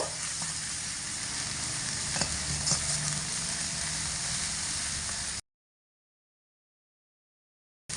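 Red chili powder and spices sizzle and fry in a pan over low heat, a steady close hiss with a few soft stirring scrapes, cutting off abruptly partway through.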